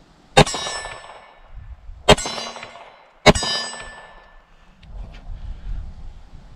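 Bullets striking an MGM steel gong target, three sharp ringing clangs about a second apart, each leaving a bright metallic ring that fades, with faint wind and distant shuffling between hits.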